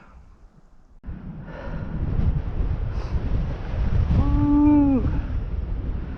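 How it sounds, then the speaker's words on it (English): Strong wind on open ice during ice fishing roars steadily and buffets the microphone, growing louder after a quiet start. A voice lets out a short whooping cry partway through. "It's going to be a little more noisy over here, but that's what the video is all about, right? The wind."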